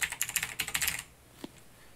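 Quick, light keystrokes on a computer keyboard, a short burst of rapid clicking for about a second followed by a single faint tap, close and quiet.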